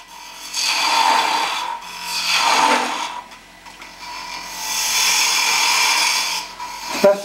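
A spindle gouge cuts a wooden bottle stopper spinning on a lathe, making three long, loud rasping passes with short pauses between them.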